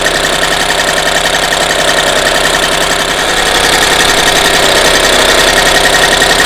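A warm car engine fitted with a Solex carburettor and variable jet idles with the choke off, a loud, steady, close rumble with fine rhythmic pulsing and no talking.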